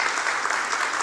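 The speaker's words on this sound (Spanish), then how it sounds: "vamos a recibirla con un aplauso" An audience in Tijuana breaks into dense, continuous applause to welcome a singer, a brief even burst of many hands.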